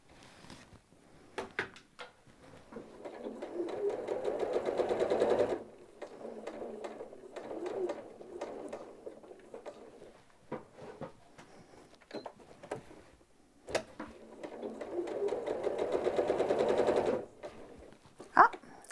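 A sewing machine with a walking foot stitches quilt layers toward the center in rapid mechanical bursts, a long run of stitching, shorter spurts in the middle and another long run near the end, with quiet pauses between.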